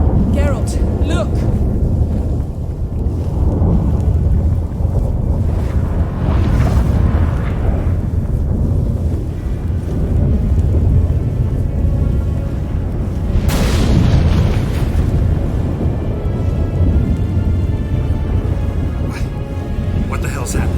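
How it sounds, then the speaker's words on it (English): Storm wind and heavy thunder rumble in The Witcher 3 video game, a loud continuous roar with booming surges, the strongest near the middle of the stretch, while game characters talk over it. "That a storm?"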